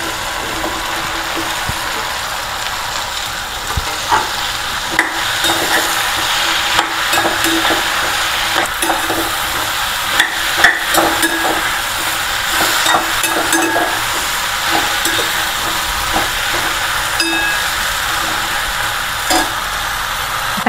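Okra sautéing in a pan with onion and tomato, a steady frying sizzle running throughout with scattered clicks and scrapes of stirring, close and fairly loud with no talking.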